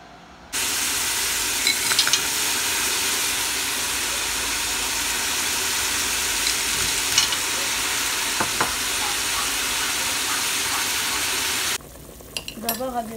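Chickpeas, fava beans, turnip and other vegetables dropped into a hot pot, a loud, steady sizzle and hiss that starts abruptly, carries on for about eleven seconds with faint stirring knocks, then cuts off.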